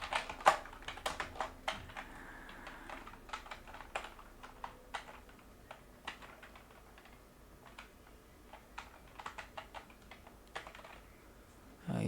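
Keys tapped on a computer keyboard while entering text in AutoCAD, a quiet, close patter of irregular clicks running steadily throughout, with no voice over it.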